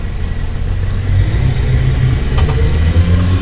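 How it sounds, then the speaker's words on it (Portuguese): A 60 HP outboard motor on a 6-metre boat revs out of gear, a loud steady rumble with a slight rise in pitch, running alone without voices. "Tá só acelerando o motor,"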